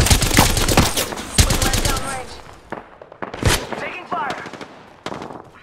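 Rapid gunfire bursts from the video game Apex Legends crackle in close succession, loud and dense at first then sparser, with players talking over the shots.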